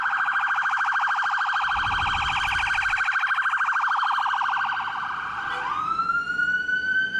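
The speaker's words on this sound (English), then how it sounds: "Bright yellow and orange ambulance. They had a cool siren." An Irish ambulance siren wails in a fast, continuous warble, loud and close, then shifts abruptly into a different rising tone near the end.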